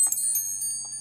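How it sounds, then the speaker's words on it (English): A bright notification bell chimes in a few quick, ringing strikes with a sustained metallic tone, clean and close with no talk. "Ring the bell."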